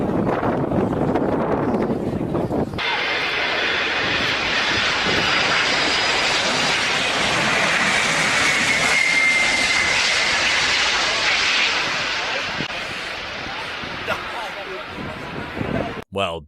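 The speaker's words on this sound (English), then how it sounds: "Let's see how this pilot handles the landing of the Antonov 225." An Antonov 225 coming in to land in a crosswind roars loudly and steadily with jet engine noise and wind buffeting, which fades toward the end.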